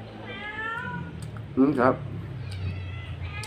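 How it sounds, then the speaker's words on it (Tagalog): Cats asking for food give a couple of meows, one fainter and longer and then a short, louder cry, close by over a low background hum, with a person speaking briefly. "Humingi ng pagkain na naman yung mga pusa."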